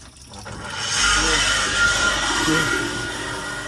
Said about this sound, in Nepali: पानी पम्प त्यो चलाएर कल छुटेर चलाएर मैले चाहिँ फाइनली गरिसकेको छु